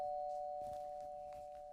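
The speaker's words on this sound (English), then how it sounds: "I hear a doorbell." A doorbell rings once with a sustained ding tone that slowly fades, fairly quiet, with faint background movement and no talk.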